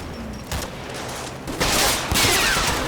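Gunfire crackles through the World War II Normandy game Combat Mission Battle for Normandy in dense, overlapping volleys under a continuous roar, swelling louder about halfway through and staying intense to the end.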